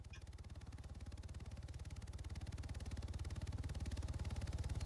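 Helicopter engine in Arma 3, a steady low rhythmic rotor thump and whir that grows slightly louder as it approaches, with no talk.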